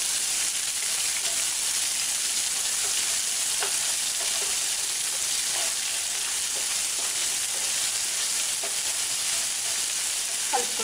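Chopped gherkins (dondakaya) fry with green chilies and curry leaves for a coconut fry, making a steady, dense sizzle with occasional soft taps of stirring. The sound is close and continuous, with no talking.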